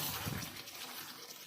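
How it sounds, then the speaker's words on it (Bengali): Hot water pours into a pan of browned mutton curry, a steady close gush with a bubbling, sizzling hiss that stays even throughout, with no talking. "এবারে গরম জল দিয়ে দেবো"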